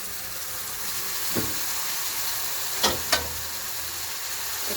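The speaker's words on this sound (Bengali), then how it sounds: "এই যে এটা হলো পেঁপে কুচি, প্রথম দিয়ে দিলাম।" Chopped papaya sizzles steadily in a hot pan as a vegetable dish with carrot and mung dal begins cooking, a constant frying hiss broken by two sharp crackles near the end, with no talk.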